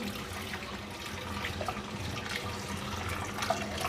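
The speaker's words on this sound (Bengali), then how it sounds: "এবার এর মধ্যে পানি দিয়ে দিই" Water is poured into a pan of aair fish curry already seasoned with cumin, green chilies, salt, turmeric and chili powder. It makes a steady, close splashing trickle for a few seconds, with no talking.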